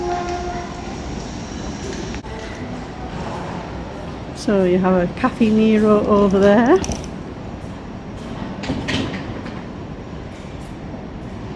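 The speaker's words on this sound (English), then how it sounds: "And you can see the trains down there." Trains at Manchester Airport station heard from a walkway above: a rumbling rail background with a loud horn-like tonal blast in the middle, while people talk nearby throughout.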